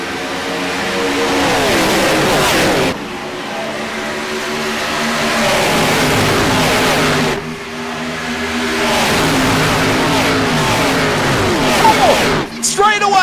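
Race cars accelerate back to full speed at Atlanta Motor Speedway during a stock car event. Loud engines roar and rise in pitch in successive passes, and a commentator talks over the noise.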